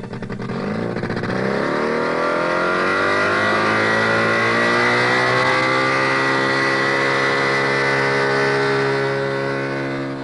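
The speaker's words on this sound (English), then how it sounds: "Not unnaturally, it's called a hover scooter." A 1960s hover scooter, a hovercraft-style motor scooter, drones steadily with a loud, continuous engine note whose harmonics slide gently upward as it revs, running alone throughout without any voices.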